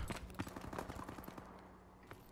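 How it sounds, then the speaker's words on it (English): Rapid gunfire in the Call of Duty Advanced Warfare video game, a dense stream of sharp automatic shots during a fast-paced online match that thins out and fades toward the end. "Up here you can hear the gunfire."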